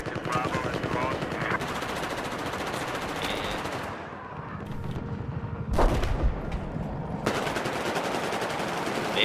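Dense video-game gunfire in a large infantry battle: rapid machine-gun bursts and single rifle shots overlapping almost without pause, with a brief lull before heavy firing resumes.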